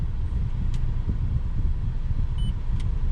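A 2010 Toyota Corolla S engine idles steadily after a fuel pump reset, a low continuous rumble with some wind buffeting on the microphone and faint brief high chirps.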